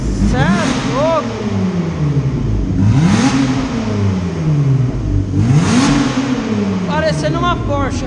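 A Hyundai Veracruz 270 hp V6 with a stainless steel exhaust diffuser and the exhaust valve open revs in repeated sharp blips, each rising and falling loudly up close, with short bursts of talk between the revs.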